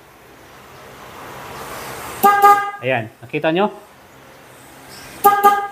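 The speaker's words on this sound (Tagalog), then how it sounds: "Tutunog yung loud horn at the same time" Two loud, blaring honks from the aftermarket dual contact horn on a Honda ADV 160 motorcycle, slightly hoarse, separated by a few seconds with someone talking briefly in between.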